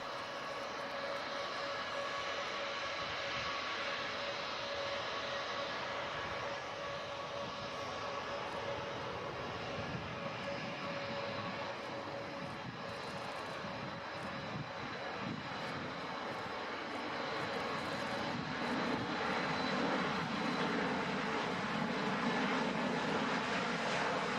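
A steady roar of aircraft engines during a takeoff run, broadband and continuous, swelling slightly louder toward the end as the plane powers along with its nose wheel held up a long time before lifting off.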